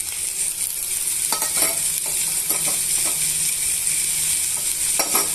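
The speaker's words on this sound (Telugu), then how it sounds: "ఇప్పుడు ఈ దొండకాయ ముక్కల్ని ఈ పోపులోకి వేసేసుకోవాలండి" Sliced ivy gourd rounds sizzle steadily in hot tempering oil, with a constant broadband frying hiss and scattered clicks and scrapes as the pieces are stirred.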